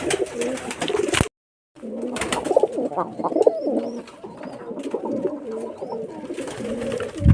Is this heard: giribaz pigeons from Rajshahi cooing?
yes